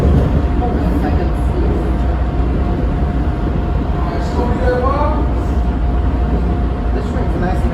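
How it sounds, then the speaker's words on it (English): Steady rumble inside a CTA Blue Line rapid-transit train car, running loud and continuous with a faint tonal whine throughout, and people talking quietly over the noise. "This train's nice and empty."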